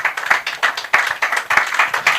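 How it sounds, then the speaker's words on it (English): Steady applause at a Web Institute gathering, many hands clapping together in a dense, continuous patter at moderate loudness. "A round of applause till he gets here."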